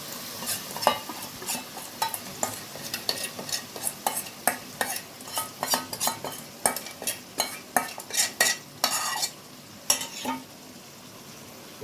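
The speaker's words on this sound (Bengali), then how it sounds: "এবার আমি এর মধ্যে এই বানানো পেস্টটা ছেড়ে দিলাম।" A masala paste with half-fried onions sizzles in a hot pan while a spoon stirs it in a quick rhythmic run of scraping strokes. The strokes sit close over a constant frying hiss.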